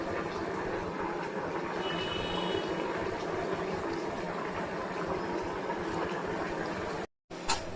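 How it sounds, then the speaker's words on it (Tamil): Maida egg snacks frying in hot oil on low heat, a steady dense bubbling sizzle that runs continuously and fairly loud, with a brief dropout near the end. "இப்போ எண்ணெயில் ஒன்று ஒன்றா போட்டு பொரிச்சுக்குவோம்"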